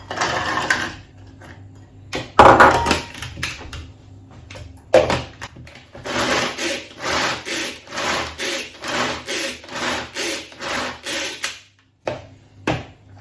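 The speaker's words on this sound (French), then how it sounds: "Je vais prendre mon tornado pour mixer ici 200 g de noix" A Tornado hand-pull food chopper chopping 200 g of walnuts for a brownie, with a series of close, rhythmic rasping and rattling pulls separated by short pauses.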